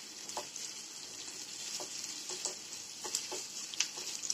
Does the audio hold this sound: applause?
no